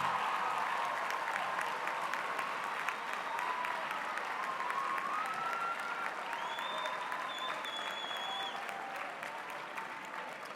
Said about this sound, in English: Students, would you get up and give a round of applause to the people who brought you here today?